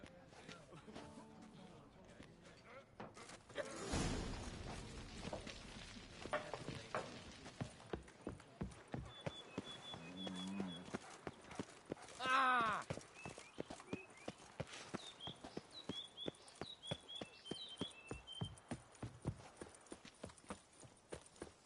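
Hooves of the horse Roach in The Witcher 3 beat in a fast, steady clip-clop that goes on for most of the stretch, close and clear, with a brief rumble and a few game sounds and voices mixed in.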